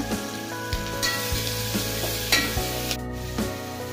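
Chopped onion with ginger, garlic and green chili paste sizzles steadily in a hot pan, with occasional stirring scrapes and no talking.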